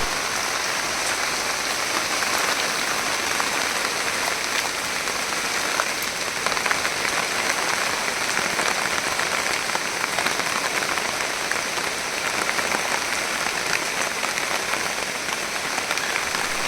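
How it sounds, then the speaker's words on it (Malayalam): Constant rain pattering densely on a hard surface, an even hiss of drops that carries on without a break. "ഒരു പതിനഞ്ച് മിനിറ്റ് കഴിഞ്ഞപ്പോഴത്തേക്കും മഴ പെയ്തു ഇവിടെ"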